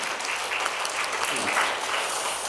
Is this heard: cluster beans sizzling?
no